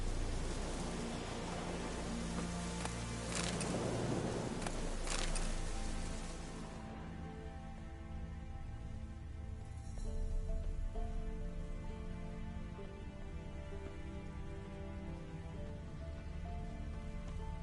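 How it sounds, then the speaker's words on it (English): Soft, steady rain hiss in the video game The Witcher 3: Wild Hunt that fades partway through, with faint low rumbling in the background and no voices. "Looks like rain."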